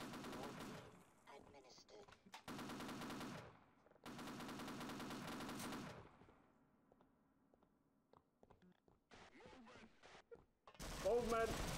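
A .50 cal machine gun in the video game Sven Co-op fires in three long, loud sustained bursts, then goes quieter with scattered clicks and small sounds before a final harsh burst at the end.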